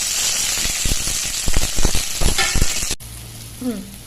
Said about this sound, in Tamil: வெங்காயம் தக்காளி மிளகாய் எல்லாம் நல்லா வதக்கிட்டோமா.